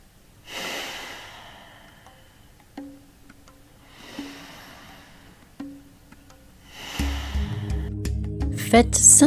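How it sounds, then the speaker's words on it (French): Forceful breaths pushed in and out through the nose during kundalini yoga practice, three long rushing exhalations separated by quiet pauses, close and loud, with a low humming tone entering near the end. "on va inspirer par le nez, profondément, et expirer si puissamment par le nez également"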